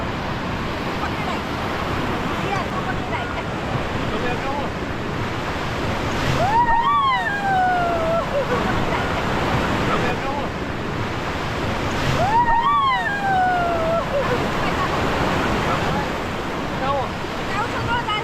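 River rapids rush loudly and continuously around a raft on the river in Rishikesh, Uttarakhand, a broad roaring wash with two brief high whistle-like calls rising over it.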